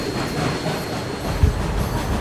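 A steam train puffs steadily down the railroad line, pulling a string of inbound cars. The rumble is continuous and fairly close, with a dull thump near the end.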